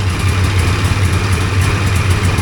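Hovercraft engine idling with one side running leaner, a steady low droning hum with a strong fixed tone, close and loud throughout.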